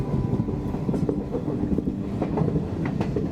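A moving train in a Kannada action film rumbles loudly and steadily, with a dense, uneven clickety-clack of wheels running under the constant rolling noise.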